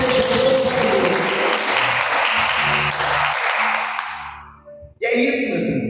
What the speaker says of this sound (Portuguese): batam palmas para Jesus e glorifique a Deus